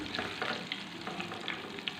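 Hot oil sizzles and crackles steadily as a garlic tempering is poured into whole masoor lentils, a dense frying hiss with small pops throughout.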